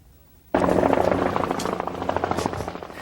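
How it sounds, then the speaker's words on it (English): Government helicopter flying over the high Sierras of Sinaloa, Mexico, in 1986: a loud, steady rotor chop with rhythmic thumping that starts abruptly and holds close and strong throughout. "Government helicopters on the lookout for marijuana and poppy fields in the high Sierras."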